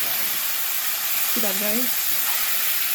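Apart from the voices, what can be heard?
shrimp cooking in caramelized butter with ginger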